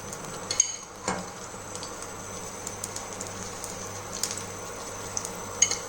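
Ghee sizzles in a hot pan, a faint, steady crackle and hiss with occasional small pops and light clinks of a utensil.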